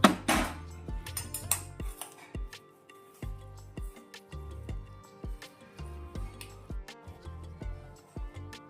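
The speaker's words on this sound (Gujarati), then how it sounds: "તો આપણે આ વાસણમાં કાઢી લઈશું" Freshly cooked methi pak is scooped from a pan into a metal vessel, giving a run of close, irregular metallic knocks and scrapes from a spoon against metal, with no speech.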